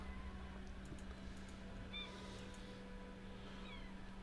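A cat meows a few times, short soft chirping calls at moderate distance over a steady low hum and faint background noise.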